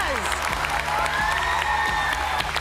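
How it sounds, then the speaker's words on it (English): A crowd at a science quiz grand final applauds and cheers steadily, with scattered whoops rising over continuous clapping. "Can we have one more gigantic round of applause?"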